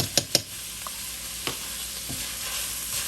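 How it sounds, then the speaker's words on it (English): Tomato paste is stirred into cooked, seasoned meat for chili, with two quick spoon clanks at the start, then a steady soft sizzle and a few scraping stirs, close and without talk. "I'm going to add a couple teaspoons of tomato paste."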